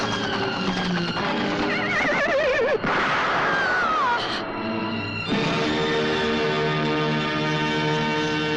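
A horse neighs loudly with wavering, whinnying cries, followed by sustained ringing tones in a dramatic film scene.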